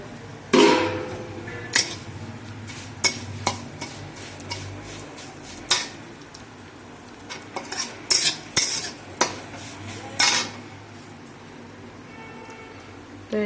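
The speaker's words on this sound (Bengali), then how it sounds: "তো ঘি গরম হয়ে গেছে, এতে সিমইটা আমি দিয়ে দিচ্ছি।" Vermicelli fries in hot ghee in a pan, stirred with a metal spoon that clinks and scrapes against the pan in irregular bursts over a faint sizzle, with some talking.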